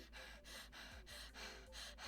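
A voice imitates scared breathing: a run of loud, quick, harsh gasps repeating roughly every quarter second, close and breathy, with no words spoken.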